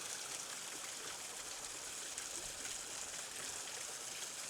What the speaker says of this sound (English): you see the water falling up there?